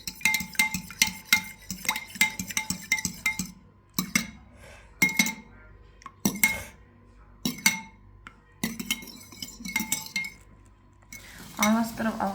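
A spoon or whisk clinks rapidly against the sides of a bowl, vigorously stirring a mixture of milk for bread toast, in fast rhythmic bursts separated by brief pauses.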